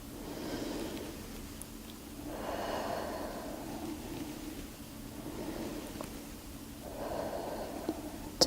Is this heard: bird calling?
no